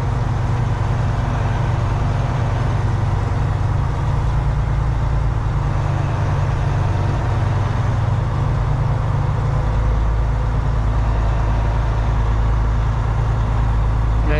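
A vehicle creeps along at about 5 km/h on a closed course, a loud, steady low engine drone close by with no change in pace. No one talks over it.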